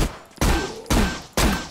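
Three loud, sharp gunshot bursts spaced evenly about half a second apart ring out in the zombie shooter game Zompiercer, each blast decaying briefly before the next, with no voices.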